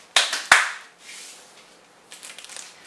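A couple of sharp hand claps as applause during a thumball party game, followed by faint scattered rustling and light taps.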